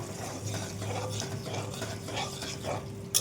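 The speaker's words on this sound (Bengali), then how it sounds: "দইটা দিয়েছি, একটুখানি সামান্য নাড়াচাড়া করি" A spoon stirs curd into a simmering dish in a pan on a gas stove, soft rhythmic scraping and gentle sizzling repeating over a few seconds, ending with a sharp clink.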